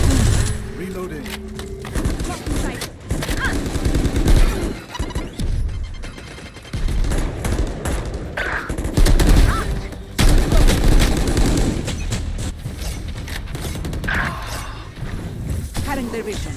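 Gunfire and explosive bursts in a Valorant esports match, scattered shots and booms mixed under a caster talking continuously over dense game noise.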